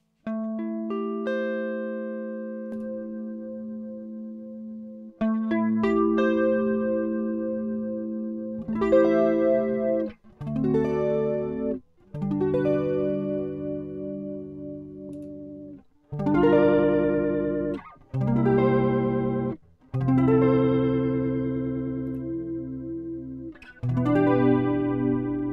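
Guitar runs through a TC Electronic June 60 V2 chorus pedal in stereo, giving shimmering, wavering chords and notes in separated phrases with short pauses between them, loud and alone.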